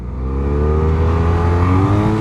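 A 2017 BMW F800R motorcycle accelerates hard up close, its engine note climbing steadily in pitch as a loud, sustained growl that fills the moment without any talking.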